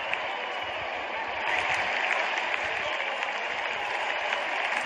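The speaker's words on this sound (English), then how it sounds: "Crowd is going crazy." Steady broadband crowd roar and applause from a stadium in the Real Cricket video game, Australia vs West Indies, a continuous dense cheer swelling slightly midway and sustained throughout without voices.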